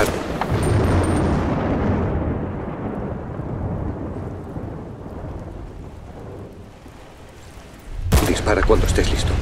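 A loud, sharp sniper rifle blast in Battlefield: Bad Company 2 bursts out near the end over a rumbling, stormy thunder backdrop, echoing briefly.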